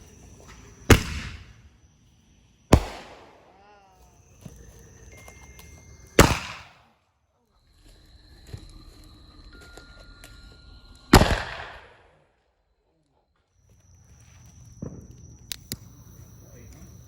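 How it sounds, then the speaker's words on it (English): Neighborhood fireworks on Halloween night pop in several sharp, loud bangs spaced seconds apart, some with crackling tails, with quieter stretches and faint voices between. "we got the whole neighborhood doing fireworks now."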